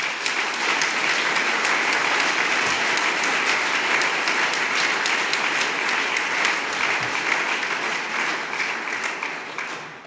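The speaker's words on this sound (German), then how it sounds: "noch eins doch einen starken Applaus für die neue Fraktion" A large audience at an FDP party assembly in Willisau gives a strong round of applause for the new faction, dense, loud and sustained clapping that fills the room for about ten seconds before easing slightly at the end.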